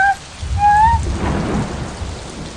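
Dense, steady rainfall hisses close by while a low thunder rumble rolls underneath, accompanied by a few faint bird-like whistles at the start.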